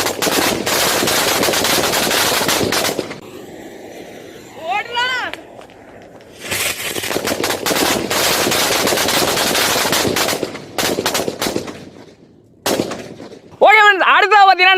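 A string of Nattu Vedi and Bijili Vedi firecrackers goes off in dense, rapid crackling bursts, loud and close. Short pauses between the volleys carry excited voices and whistling.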